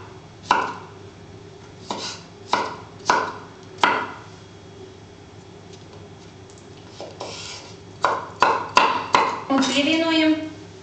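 A kitchen knife cuts pickled cucumbers into cubes for a potato salad, with scattered single chops on a board and then a quick run of strikes, ending in a scraping, ringing clatter. A faint hum sits underneath.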